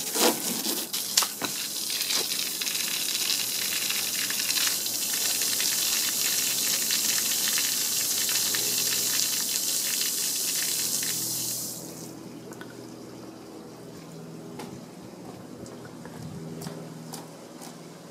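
Water spraying onto a car body to wet it, a steady loud hiss for about twelve seconds that drops to a softer trickling spray with scattered splashes.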